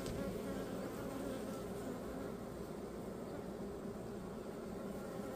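Honeybees in an open hive full of hatching young bees give a dense, steady buzzing drone, close and continuous throughout with no talk.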